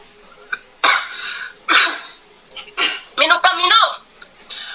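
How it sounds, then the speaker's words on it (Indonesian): Repeated coughing from a person, several harsh bursts spaced across the moment and building into a cluster of rapid coughs near the end, close and fairly loud with no other talk. "tiba-tiba serak lagi, tiba-tiba batuk lagi"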